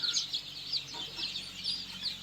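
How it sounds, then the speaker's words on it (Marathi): Silkie chickens cluck in a dim brooding area, a close, continuous run of repeated clucks and chirpy calls with no voices. "हा जो पक्षी दिसतो मित्रांनो हा तुम हा पूर्ण सिल्की पक्षी आहे"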